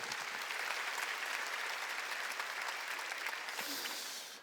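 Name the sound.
church congregation applauding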